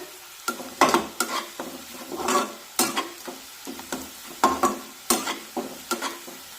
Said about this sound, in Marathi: आता यामध्ये चिमूटभर हिंग टाकूया, मिक्स करून घेऊया।